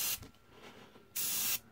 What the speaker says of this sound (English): airbrush gives you a little more control because the paint doesn't go on quite as thick